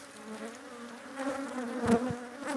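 Honeybees buzz around beehives in a steady, close, moderately loud hum, swelling briefly as individual bees fly near.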